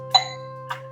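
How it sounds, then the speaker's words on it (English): A rear push-button doorbell sounds a single soft ding, with a faint second chime tone a moment later over a low steady hum. "2 dings, 1 ding for your rear"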